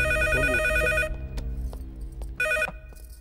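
A telephone rings in an office in a Telugu film scene, two loud bursts of trilling bell tones separated by a pause, with faint background noise between them.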